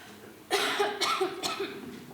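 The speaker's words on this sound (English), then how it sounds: "sorry, I'm coughing" A woman on a games player-support panel coughs three or four times in quick succession, close to the microphone, with brief gaps between the harsh bursts.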